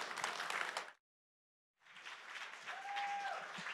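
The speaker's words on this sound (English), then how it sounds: "big round of applause for Toby1 and Mad" Applause from an arena audience at an esports grand final, a Dota 2 match between Fnatic and Vici Gaming, fills the hall. It breaks off into a short silence, then resumes as a dense, sustained wash of clapping.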